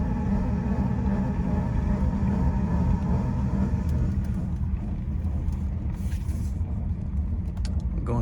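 A 2008 Mazda CX-9 rolling slowly while turning left gives a steady low rumbling drone from the running gear, continuous and fairly loud inside the cabin.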